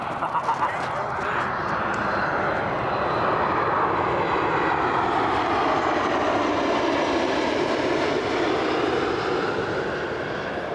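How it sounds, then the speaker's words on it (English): A fixed-wing airplane passes overhead, its broad, steady engine roar holding loud and near for the whole stretch, swelling slightly in the middle with a gradual pitch shift. "I got another plane, 1 second. One more plane."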